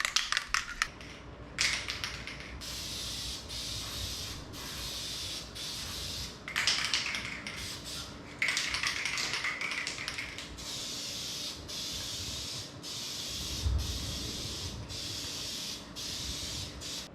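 Aerosol can spraying color and clear coat onto a Jeep Commander part, several hissing bursts of a few seconds each with short pauses between, fairly close and steady, against a faint background hum.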